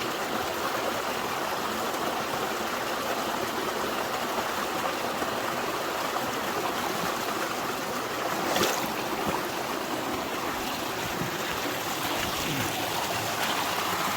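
A waterfall being worked for gold gives a steady, even roar of rushing water that stays close and loud throughout. There is no speech.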